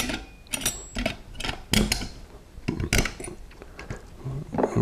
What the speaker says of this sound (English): You just start one corner and you've got to work it in with a big screwdriver